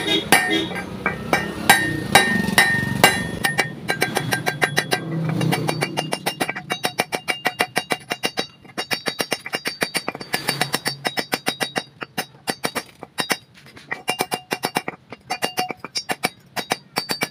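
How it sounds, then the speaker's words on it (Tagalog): A hammer strikes metal again and again to curve it while building a used-oil stove burner chamber. The blows are sharp, ringing and quick, with brief talk and rumble at first, then a long run of clear strikes. "pupukpukin natin ng martilyo para mag-curve siya"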